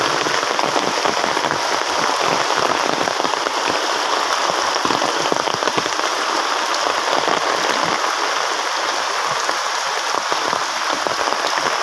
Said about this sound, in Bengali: আসলে বৃষ্টি হচ্ছে, অনেক ভারী বৃষ্টি হচ্ছে